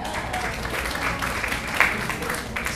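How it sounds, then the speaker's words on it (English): Audience applause at a community choir concert, steady dense clapping from a large crowd in a hall, moderately loud and continuous throughout. "Hold the applause."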